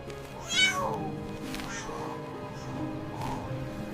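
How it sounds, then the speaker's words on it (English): A cat chirps and trills the way kittens greet their mother: a sharp rising chirp near the start, then softer trilling calls, close and fairly quiet. "The chirps and trills are sounds kittens specifically use to communicate with their mother"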